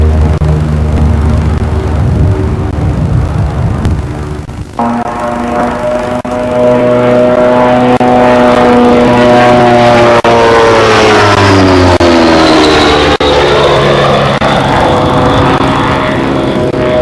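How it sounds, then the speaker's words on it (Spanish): Fairey Gannet carrier aircraft with contra-rotating twin propellers, a loud close continuous propeller and engine drone with steady harmonic tones that shift in pitch as the plane passes, alone without voices. "el ruido de su doblete de hélices cubre el de sus motores"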